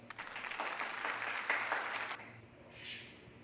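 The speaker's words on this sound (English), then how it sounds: "Let's clap our hands for yourselves" Classroom students clap for themselves, a dense burst of applause for about two seconds that then fades to quieter murmuring.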